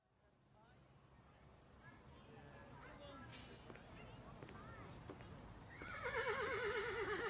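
A horse whinnies loudly near the end in a private horse arena, a rising, wavering call over murmuring voices and a growing background rumble.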